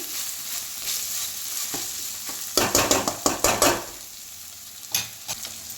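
Chicken gravy curry with ginger-garlic paste and turmeric sizzles in a pan under constant frying hiss, while a spoon scrapes and stirs in a quick burst of clustered strokes and a few later scrapes.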